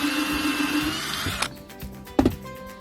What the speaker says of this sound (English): He's going to drill some holes.